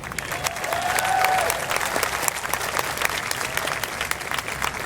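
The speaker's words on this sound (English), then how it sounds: "Let's give another round of applause to the Philly Pops." A large outdoor crowd at the 2019 Wawa Welcome America Celebration of Freedom Ceremony applauds the Philly Pops orchestra with dense, sustained clapping, plus a brief whistle-like tone early on.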